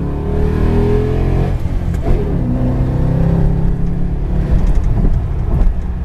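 A 2007 Ford Mustang on 20-inch wheels with 275/40/20 tires accelerates, its engine droning loud and steady with rising pitch and a shift midway, heard from inside while driving.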